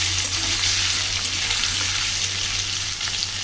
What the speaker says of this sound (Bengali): তো বন্ধুরা, আমি কিন্তু একটু হালকা করে ভেজে নিলাম সব কিছু।